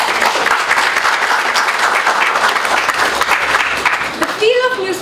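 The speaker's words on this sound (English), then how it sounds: "Ms. Poonam Singh, with a huge round of applause." Workshop audience giving a big round of applause to welcome the day's resource person, loud continuous clapping that fades near the end as a voice begins to speak.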